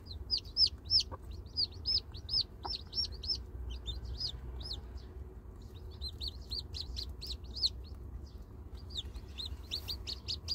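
Newly hatched chicks peep in rapid, high bursts around a hen, with occasional soft low clucks beneath and a quiet background hum throughout.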